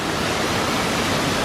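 A small waterfall in the El Yunque rainforest of Puerto Rico pours in a steady, dense rushing roar, close and loud, with no talk over it.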